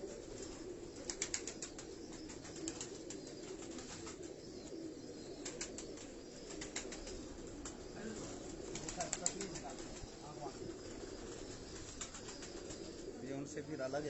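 Pigeons on a Karachi rooftop coo softly and flap their wings now and then, with faint voices in the background.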